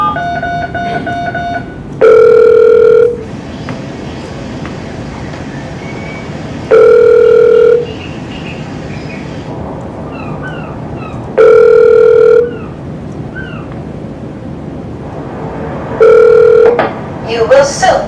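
Telephone line connecting on a call to a national phone number in Sweden: a steady dial-type tone under a voice, interrupted four times by loud, regular bursts of ringing tone about every four and a half seconds.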